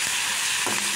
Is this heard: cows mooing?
no